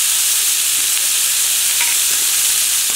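Garlic and greens frying in bacon grease, with a steady bright sizzle and a few soft stirring scrapes, close and continuous with no talk.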